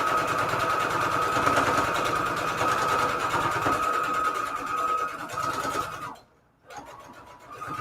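A sewing machine stitching fabric scraps together for patchwork junk journal covers, a steady close mechanical whir that runs for several seconds, stops briefly, then starts again.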